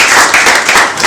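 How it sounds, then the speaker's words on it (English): A live audience applauds a band with loud, dense, continuous clapping that fills the space without pause. "they deserve a very big round of applause for them."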